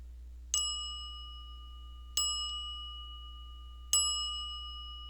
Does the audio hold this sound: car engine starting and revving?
no